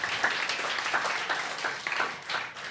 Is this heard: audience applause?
yes